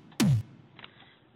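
A single Nexus drum sample played in FL Studio: one punchy hit with a quick downward-sweeping pitch, fairly loud and alone, followed by a faint tail.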